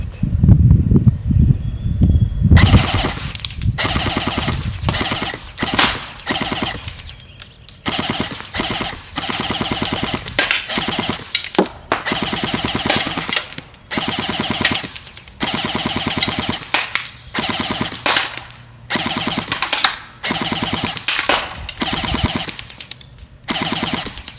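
Barra 400E Gen 2 all-metal electric .177 BB machine gun firing full-auto in long rapid bursts, loud and close, with brief pauses between strings of shots and no talking.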